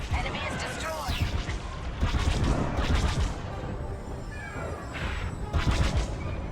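Rapid bursts of enemy laser blasts in a Star Wars space dogfight between starfighters, crackling volleys rising and falling in waves, with voices talking over the fire.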